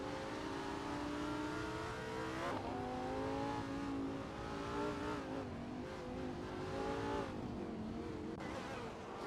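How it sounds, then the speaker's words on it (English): Hypercars race around a speedway in a video game, a steady loud engine whine that rises and falls in pitch through several gear changes and passes, with no talking. "our racers race relentlessly in their sleek supersonic supercars"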